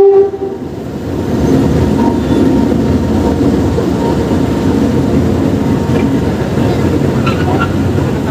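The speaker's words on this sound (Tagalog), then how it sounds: "dadaan yung tren." A train rumbles past an elevated road construction site on Ramon Magsaysay Boulevard, a loud steady rolling roar that swells in after a brief quieter start and holds to the end.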